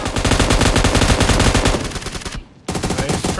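Rapid machine gun fire in a first-person shooter game, a dense loud burst of shots that breaks off briefly and then resumes, with no talking.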